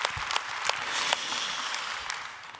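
A church congregation applauding during a Sunday worship service, a brief burst of scattered claps rising and fading over a couple of seconds, with no voices.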